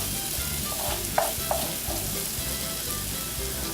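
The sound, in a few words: Italian short ribs sizzling as they simmer in a pan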